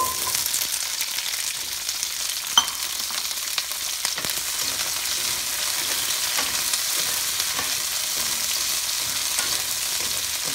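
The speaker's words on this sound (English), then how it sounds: "I'm gonna stir fry it." Vegetables, including asparagus, stir-fry in a wok for a seafood black bean dish. A loud, continuous hissing sizzle fills the sound, with occasional utensil clicks and scrapes.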